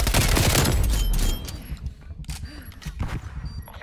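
Bursts of gunfire from a multiplayer tactical shooter game, a loud rapid volley at first, then scattered sharper shots over quieter game ambience.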